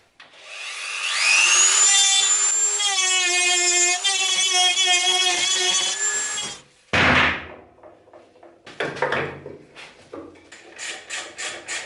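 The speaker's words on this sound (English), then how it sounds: "So I'm just gonna take a Dremel, get that nasty weld out of there and take out that piece" A Dremel grinds out a weld inside a Peugeot Fox moped exhaust with a high, whining, pitch-shifting scream for about six seconds, then breaks into shorter rough rasping bursts and fades to quieter scraping.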